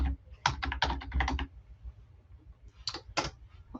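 Someone types a file name on a computer keyboard, with a quick run of close, crisp key clicks, then a pause and a few more taps.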